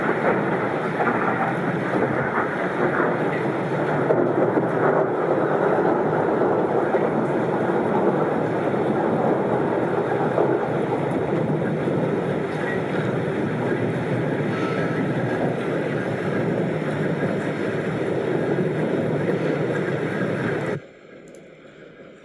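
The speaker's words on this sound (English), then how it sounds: "You can kind of hear the rolling thunder." A September thunderstorm fills the recording with a continuous deep rolling rumble of thunder, loud and sustained for about twenty seconds, mixed with a steady wash of rain before cutting off abruptly near the end.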